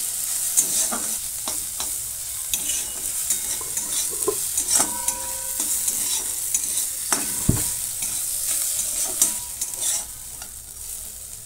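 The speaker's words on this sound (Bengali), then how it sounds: "যেহেতু পালং শাক থেকে জল বার হয়, সেই জন্য একটু সময় নিয়ে এটাকে ভাজতে হবে।" Spinach stir-fried in a hot pan, a steady crackling sizzle broken by repeated scraping stirs and a few clinks of a spatula against the pan, close up with no voices.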